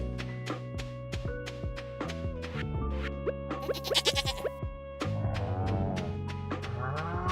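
A goat in the farming video game Stardew Valley bleats repeatedly in clear, wavering cries, set over a steady, plucked lo-fi music bed that carries throughout.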